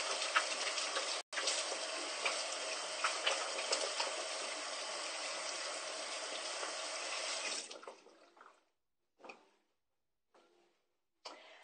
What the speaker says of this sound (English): I'm just going to wash my hands really fast.